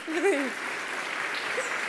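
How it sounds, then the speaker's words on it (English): Applause from the audience at a Barnard gala presentation, a soft, steady patter of clapping that is fairly distant. A brief voice sounds at the start. "Janine Tesori, just another round of applause, please."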